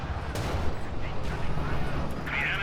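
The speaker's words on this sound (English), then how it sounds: "This mortar pit is just horrible. It's not even stopped firing this entire time it's been up." A mortar pit firing in a strategy video game, repeated thuds and bursts in a busy battle mix, steady and continuous, with a voice talking underneath.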